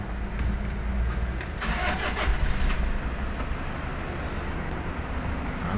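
Toyota Hiace Commuter van with a manual transmission, its engine starting after flood damage to the transmission: a loud cranking burst that catches into a steady mid-pitched idle running close by, with no talk over it.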